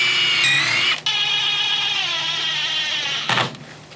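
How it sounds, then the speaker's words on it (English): A power drill whines steadily as it pre-drills a hole for a deck handrail, the motor tone shifting in pitch, briefly cutting out near the start and stopping with a clunk toward the end. "you just want to make sure that you drill that in there with a pre-drill"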